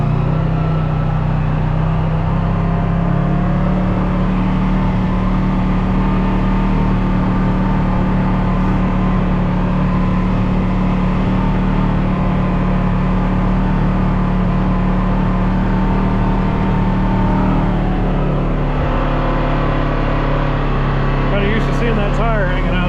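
A 2026 Polaris RZR XP-S Ultimate side-by-side drives along with a steady engine drone that shifts pitch partway through, loud and close, with an occupant talking over it.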